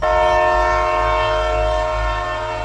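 A train arrives at a platform in a horror story, its horn blaring a loud, sustained multi-tone chord over a deep rolling rumble, close and unbroken.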